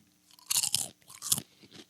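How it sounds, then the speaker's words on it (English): Potato chips are munched near the microphone, three or four loud crisp crunching bursts with short quiet gaps between them, and no talking. "if y'all hear me munching on tater chips"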